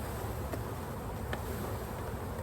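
A honeybee swarm hums steadily and fairly loud, a continuous buzz of many bees with a few faint taps on a screen over a box.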